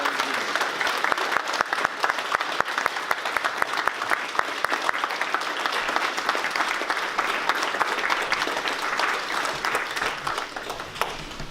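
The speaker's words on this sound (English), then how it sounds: "stand and give this man an applaud" Audience applause at a drug court program graduation ceremony, a steady dense clapping from a large crowd that holds for about eleven seconds without letting up.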